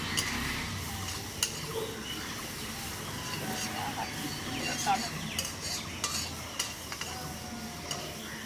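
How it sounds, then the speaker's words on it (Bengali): Chopped onion and whole cumin seeds are stirred in hot oil for a prawn malai curry, giving a soft steady sizzle with frequent close scrapes and taps of a spatula against the pan, and quiet talk in the background. "পেঁয়াজ কুচি দিয়ে আবার আমি ভালো করে নেড়ে নেব"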